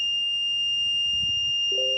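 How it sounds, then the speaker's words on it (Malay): Buzzer alarm of a smart violence detection system sounds as a steady, piercing high electronic tone held throughout, with a second lower beep joining near the end. "LED merah akan menyala dan buzzer akan membunyi"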